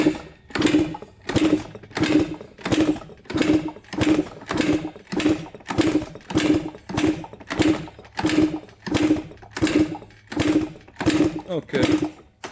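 A Yamaha Banshee ATV engine is kicked over with the fuel off and the throttle wide open during a compression test, giving about fourteen evenly spaced, loud mechanical cranking bursts in a steady rhythm.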